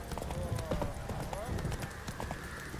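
Horse hooves clip-clopping at a quick pace in The Witcher 3, rhythmic thuds close up with a brief whinny, under game voices talking.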